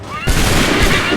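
A musket volley in Assassin's Creed III erupts after a brief lull, a loud crackling fusillade of many overlapping shots that rolls on as one dense, booming roar up close.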